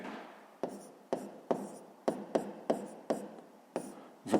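Numbers are written out by hand for a fifth-grade maths exercise, heard as a close series of about ten short scratchy strokes, each a sharp onset fading quickly, with no talking.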